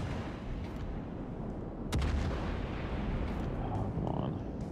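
Naval guns fire in World of Warships: Legends on the Atlântico map, with a loud boom near two seconds and continuous rumbling battle noise, dense and steady, carrying through to the end.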